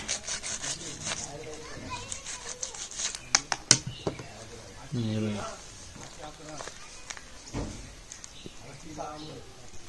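A knife saws and scrapes through the tough top of a ripe jackfruit in a Konkan village, with irregular rasping strokes and a few sharp cracks, while a person talks over the cutting.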